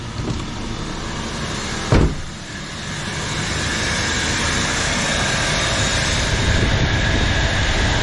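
A 2001 Nissan Pathfinder engine cranks and fires with a brief loud burst, then settles into a steady, close idle rumble that runs on without a break.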